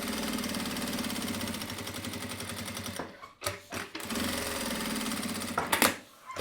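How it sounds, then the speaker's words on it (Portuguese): A sewing machine stitches around a pocket with a fast, steady mechanical whir, pausing briefly twice before running on, loud and close. "eu venho e passo uma costura na volta toda, prendendo esse bolso lá pra baixo"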